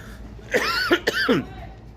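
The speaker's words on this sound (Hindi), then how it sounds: "मुझे भी खांसी हुई है" A sharp, close cough with a couple of quick hacking bursts, standing alone against a quiet background.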